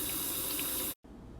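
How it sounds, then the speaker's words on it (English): Cold water runs steadily from a kitchen tap into a bowl, a close, continuous hiss that cuts off abruptly, followed by a quieter room tone. "I am going to get my bowl filled with cold water to rinse my fruit"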